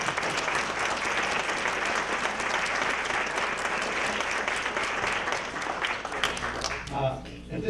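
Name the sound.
audience applause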